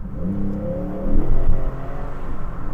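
A Cadillac XTS engine revs and pulls harder in second gear, its drone rising as the car accelerates, loud and close.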